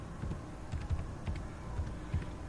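Typing on a computer keyboard, a quick irregular run of soft key clacks, close and moderately loud, with no speech over it.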